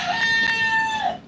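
A chicken crows once, a bright, sustained call held steady for about a second before tailing off, loud and fairly close, with no talking over it.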